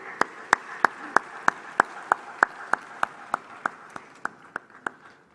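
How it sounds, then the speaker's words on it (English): At a bank's annual meetings, the audience applause comes as slow, evenly spaced single claps, about three per second, that are crisp and distinct and grow slightly fainter toward the end, with no speech over them. "Please, a round of applause."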